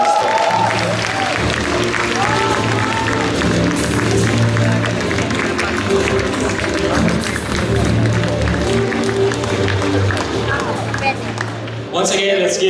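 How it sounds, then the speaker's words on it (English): Warm audience applause after a speaker's personal story at a Diamond 2 Star event, a loud, dense and continuous wash of clapping with some crowd noise, fading near the end. "Once again, let's give a big warm round of applause to Leon from Trinidad and Tobago."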